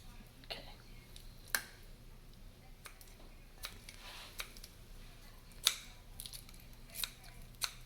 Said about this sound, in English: I'll just take the scissors right here.